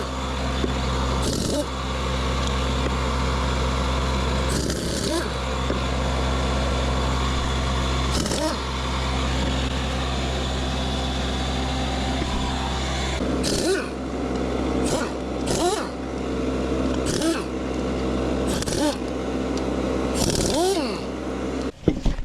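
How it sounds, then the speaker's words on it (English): An air compressor runs steadily in a workshop during a John Deere 210 restoration, a constant loud mechanical drone with a low hum throughout, broken by brief knocks and clatter, with a voice talking over it at times. "It's gonna get a little noisy, guys. I gotta turn the compressor on."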